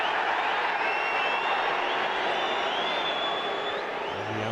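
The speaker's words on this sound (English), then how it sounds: "The Anfield crowd is a little unhappy with Kasper Schmeichel" An unhappy Anfield football crowd at a Liverpool match, a steady, distant wash of massed murmuring and low grumbling noise that holds at an even level throughout.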